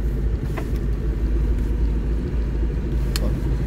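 Lada Niva engine driving through snow, a loud, close, steady low rumble from inside the vehicle with a couple of brief higher clicks over the drone.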